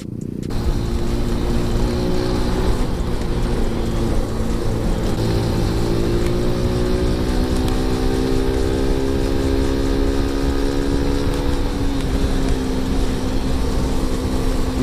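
A Suzuki Smash 115 motorcycle hums steadily while riding, its engine drone rising slightly in pitch midway, loud and continuous with no talk.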